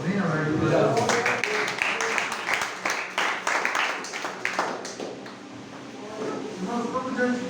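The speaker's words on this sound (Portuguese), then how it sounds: "as palmas bem alegres para Jesus" A church congregation claps joyfully in a burst of rapid applause that swells, then fades while a voice speaks over it.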